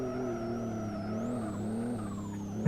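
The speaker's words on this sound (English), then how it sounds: "It has that six-cylinder kind of sound to it." A six-cylinder race car engine in the racing game Live For Speed holds a steady, loud, smooth drone with a slight rise in pitch midway, running continuously without talk.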